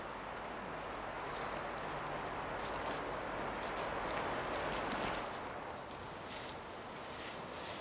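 Horses' hooves clip-clopping on the ground as the animals are led to shelter, a steady muffled clatter under windy outdoor noise, moderately near.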